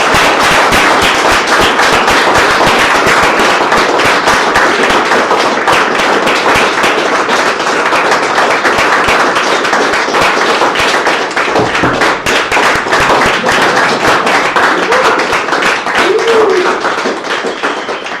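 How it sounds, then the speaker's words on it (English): Loud, sustained applause from a large crowd at a conference summit, dense clapping with a few cheers, continuing steadily for the whole stretch before easing slightly at the end. "So a huge round of applause for Freedom of the Press Foundation"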